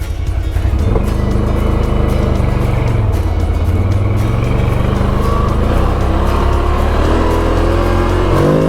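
Loud, continuous engine drone of a 2025 CFORCE 1000 Overland ATV while riding, pitch rising and falling steadily with throttle, close and constant throughout.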